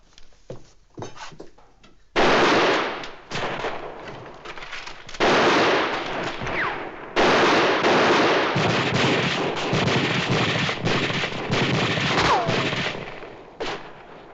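Heavy gunfire from a 1955 western film shootout: bursts of rifle and pistol shots crowd together almost without pause, loud and close. A brief quieter stretch with a few scattered shots comes first.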